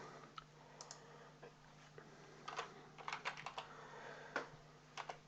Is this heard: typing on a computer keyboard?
yes